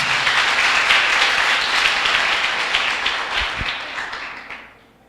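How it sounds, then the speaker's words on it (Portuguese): Church congregation applauding during a worship service, a dense, steady wash of clapping that holds for several seconds and then fades out near the end. "dê uma salva de palmas para Jesus"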